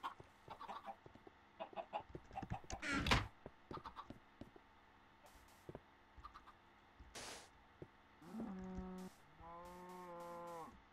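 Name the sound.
chickens clucking in a video game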